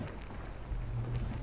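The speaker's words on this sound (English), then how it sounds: "this one hears a thunderstorm coming" A thunderstorm is approaching: steady rain hiss and a low rumble of thunder that swells toward the end. It is fairly soft and there is no talk.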